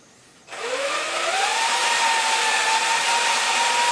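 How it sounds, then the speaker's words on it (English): A power drill bores through bodyboard foam while fitting a leash plug, starting abruptly after a brief silence as a loud, steady high-speed whine that holds its pitch close to the microphone. "the drill bit will chew through the foam"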